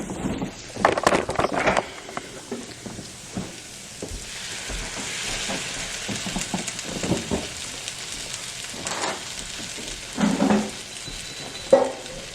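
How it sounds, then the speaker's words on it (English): Bulgogi sautéing in oil in a pan with a steady close sizzle, broken by stirring scrapes and a few light knocks. "all you gotta do is add a little bit of oil and then just saute it"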